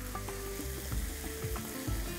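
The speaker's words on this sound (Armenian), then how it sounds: "Կավելացնեմ լոլիկի ճիր ձիթայողի մեջ" Tomato paste frying in olive oil in a pan, a soft continuous sizzle with light stirring knocks and scrapes that recur through it. Quiet and close, with no talking.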